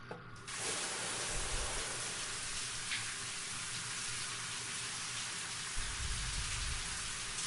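Steady rain hisses and patters without a break in the video game Life is Strange, a dense even wash of falling water with no voices.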